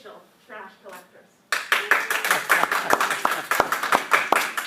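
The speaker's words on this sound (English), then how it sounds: "Let's give this team a round of applause" A small group claps for a team, applause bursting in after a few seconds of talk and continuing steadily to the end, close and lively with sharp individual hand claps.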